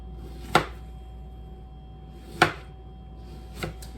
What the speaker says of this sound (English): My next step is I need to dice my apple. So all we're going to do is, I'm going to start by taking slices there.